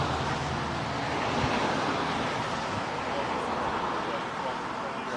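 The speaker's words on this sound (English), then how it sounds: "it's a little bit windy out here" Wind blowing outdoors, a steady broadband rush buffeting the microphone at fairly loud level for the whole stretch, with no clear breaks.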